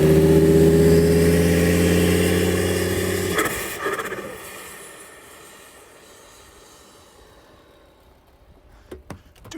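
A modified, lifted Volvo XC70 with roughly 320 to 350 horsepower revs loudly and close by for a few seconds, then cuts off, leaving faint whooshing and light clicks fading out.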